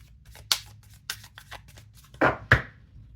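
Little Reminders Love and Relationships oracle cards are shuffled in a few soft, papery flicks and riffles, close and quiet, with no talking.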